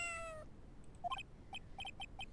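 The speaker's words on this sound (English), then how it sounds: "It sounded like a cat." Several short meows from a cat in the Phoenix Wright: Justice for All video game, clear but fairly faint, arriving in quick bursts after a fading tone.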